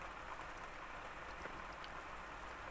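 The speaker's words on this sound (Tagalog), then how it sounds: "Ay, naku, talagang naulan. Pangit ang panahon." Steady rain falls in bad weather, a soft, even patter and hiss that carries on throughout without any voices.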